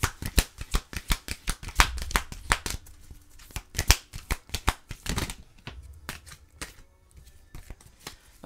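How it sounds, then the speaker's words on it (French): Tarot cards shuffled and drawn, a fast run of crisp riffling snaps and flicks, close and fairly loud, slowing into separate slaps and slides near the end, no talking. "On va aller vous chercher 4 autres cartes."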